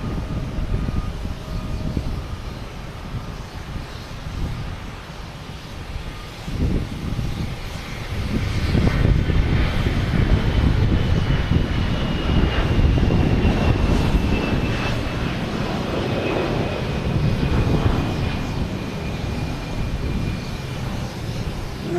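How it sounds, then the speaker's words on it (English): An airplane taking off at Boston Logan Airport, a broad engine roar that builds after a few seconds and holds loud and steady, with a faint rising whine running through it. "We'll stick with the takeoff though."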